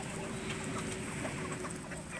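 Chickens cluck steadily during a morning corn feeding, several birds overlapping in a busy, continuous chatter over a noisy outdoor background, with no speech.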